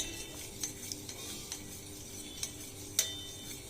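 A spoon stirs sugar into water in a pot to make a juice, light scraping with a handful of soft clinks against the sides, quiet and close.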